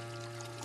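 Water is poured onto a plant in a cartoon, a brief faint pouring gurgle with a steady tonal hum beneath it.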